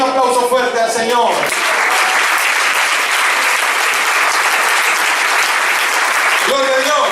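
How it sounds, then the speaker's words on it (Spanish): Church congregation breaking into loud, sustained applause that fills the room for several seconds, with a preacher's voice heard briefly before and after the clapping. "Un aplauso fuerte al Señor"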